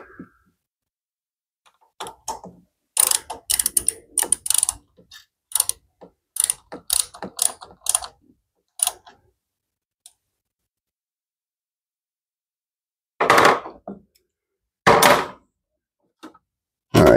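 The choke plate on a Husqvarna mower, fitted on a plastic shaft, clicks and ratchets as it is closed and opened, with close mechanical snaps in short bursts separated by silence.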